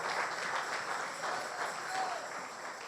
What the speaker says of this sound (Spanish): Regale una ofrenda de aplauso al Rey de Reyes y Señor de Señores.